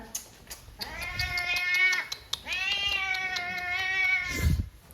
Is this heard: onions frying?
no